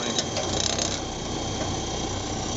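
A waste oil shop furnace burning against a thick steel target plate gives off a steady, close mechanical rattle over a constant roar, with a few brief ticking bursts near the start and no talking.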